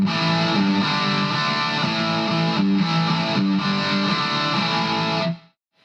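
Electric guitar played through a Boss ME-20 multi-effects pedal on its blues overdrive setting rings out a few sustained, lightly distorted chords and notes for several seconds, alone and clear, then cuts off abruptly into silence.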